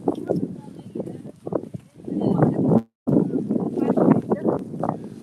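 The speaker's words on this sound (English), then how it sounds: "It's a little windy here. I'm going to try and cover the mic a bit" Steady low rumbling wind buffeting a microphone outdoors at Toronto's Riverdale Farm, loud and continuous with a brief cut in the middle, and no clear voices.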